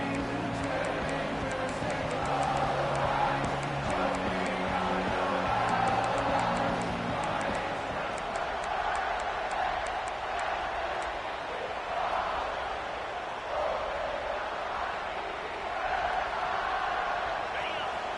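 A football stadium crowd roars in a sustained swell late in a tied game, far and diffuse, under an announcer's steady play-by-play commentary throughout.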